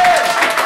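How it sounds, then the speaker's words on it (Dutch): Brief burst of crowd applause at an outdoor bungee rowing event in Dalfsen, clapping mixed with a voice and cheering over a short half-second stretch. "Mag ik een applaus voor dat Beko met 32 stappen."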